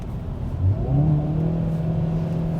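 A 2022 Hyundai Veloster N engine revs as the N Grin Shift mode drops one or two gears, giving a loud, close rising surge that then settles into a steady, throaty drone with no speech.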